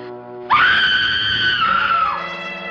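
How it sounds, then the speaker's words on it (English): A single loud, sustained scream rings out for well over a second before fading, set against quiet background music in an old 1940s film soundtrack. "Somebody screamed."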